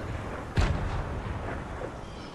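A single sharp gunshot in Fortnite, one abrupt bang with a short rumbling tail over faint game background noise.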